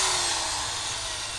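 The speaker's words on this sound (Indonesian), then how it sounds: "Berikut adalah hasil pembuatan lubang pada pipa menggunakan bor listrik" An electric drill bores holes in a pipe for an aeration fitting on a biofloc fish pond, giving a steady, loud, continuous whine with no talk.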